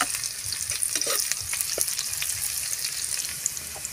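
Onions sauté in a pan over golden garlic for cabbage with egg, a dense close sizzle and crackle with quick stirring scrapes throughout, no voices.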